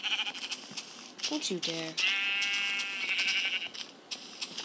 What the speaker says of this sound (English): Found you, sheep.